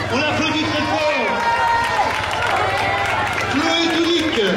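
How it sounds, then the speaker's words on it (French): Crowd applauding the first female finisher at a running race, clapping under a loud announcer speaking over a public-address system. "la première féminine avec votre ovation, on l'applaudit très fort"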